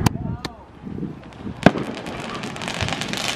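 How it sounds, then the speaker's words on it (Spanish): Fireworks and firecrackers set off along a road during Fourth of July celebrations, heard as a few sharp distant pops and bangs followed by a steady crackling spatter. "Miren, chicas, por allá están tronando cohetes."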